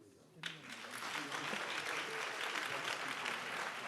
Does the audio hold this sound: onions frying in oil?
no